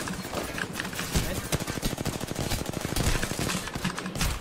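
Rapid automatic gunfire in the battle royale game Apex Legends, dense bursts of sharp shots rattling almost continuously across the span, loud and close, with a player's voice briefly under it.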